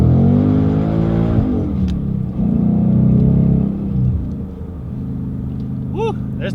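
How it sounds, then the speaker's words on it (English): A modified 2015 Ford Mustang GT V8 with 3.55 rear gears accelerates hard, its engine roaring and rising through the revs, shifting, then settling to a deep rumble as it pulls away, with a voice briefly calling out. "Woo, there's 355 gears for you."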